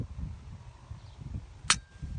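Glock pistol fitted with a drop-in trigger, pressed until a single sharp snap sounds near the end, quiet and close against a low background murmur.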